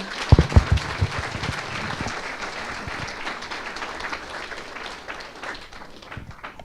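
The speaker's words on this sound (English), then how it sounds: "Another round of applause." An audience at a local branding talk applauds, opening with a few sharp close claps before settling into a steady, moderately loud round of clapping that tapers slightly at the end.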